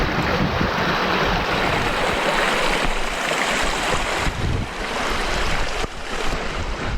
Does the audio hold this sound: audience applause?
no